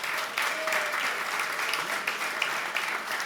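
A live audience at a hurling show in Wexford gives a round of applause, sustained, even clapping from many hands with no talk over it.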